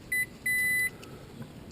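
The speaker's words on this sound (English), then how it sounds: "and just listen to the beeps." A multimeter continuity tester beeps while its leads touch a furnace flame sensor on a York Diamond 80 furnace: a short electronic tone, a brief pause, then a longer steady beep, close and clear over faint background hum.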